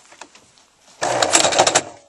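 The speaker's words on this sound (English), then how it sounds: "What we'll then do is stitch our elastic in place and close up the end." Sewing machine stitching elastic in place on a fabric headband, a loud, fast, rattling run of stitches lasting about a second after a few soft clicks and handling sounds.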